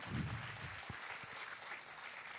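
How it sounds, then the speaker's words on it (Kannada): An audience applauds after a Carnatic classical veena, flute and violin concert, a steady patter of many hands clapping at a fairly soft, distant level with no talk over it. "ಬ್ಯೂಟಿಫುಲ್ ರೀತಿಗಳ ಒಂದು ಜೋರಾದ ಚಪ್ಪಾಳೆ ಅದಕ್ಕೋಸ್ಕರ."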